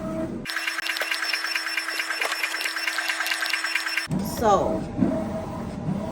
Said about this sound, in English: so it is printing